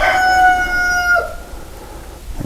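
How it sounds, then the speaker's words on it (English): A rooster lets out a single drawn-out crow, clear and fairly close, ending in a falling tail before quiet outdoor ambience takes over. "the rooster's crowing."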